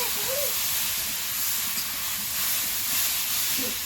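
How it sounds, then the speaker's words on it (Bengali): Prawns fry with chopped vegetables in a pan, a steady, hissing sizzle that holds at an even level from start to finish, with faint voice traces at the edges. "চিংড়ি এবারে এই কুঁচির সঙ্গে ভাজা হবে"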